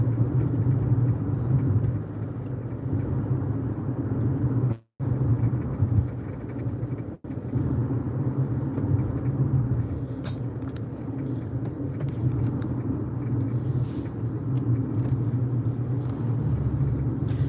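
A car drives along a road on the way to a customer's location, giving a steady, continuous low engine and road rumble throughout with two brief dropouts, and no talking.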